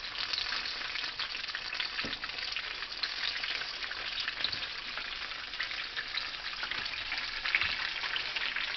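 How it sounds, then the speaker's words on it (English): Shrimp and crab rangoon egg rolls in thin wonton wrappers fry in hot grease, giving a steady, close, dense sizzle with occasional faint knocks from the pan. "you want to be right over it as it cooks. Right, y'all see they're getting brown."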